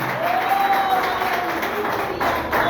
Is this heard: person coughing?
no